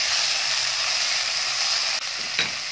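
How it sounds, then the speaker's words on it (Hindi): Tomatoes frying with onion, ginger and garlic in a hot pan give a steady, close sizzle that runs throughout, with a brief stirring scrape near the end. "अब हम इसके अंदर टमाटर डालेंगे,"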